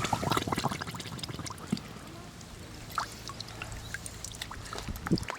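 Lake water pours and splashes into a neoprene filter bag on an Active All Terrain water filter outdoors, with an irregular gurgling flow and a few louder sloshes near the microphone.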